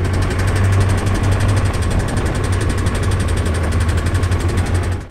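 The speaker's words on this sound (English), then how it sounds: "it seems like there may be a slight ticking noise." A motorcycle-powered car engine idles steadily and close up, with a dense, even running note and a faint, rapid tick from suspected internal wear under the drone.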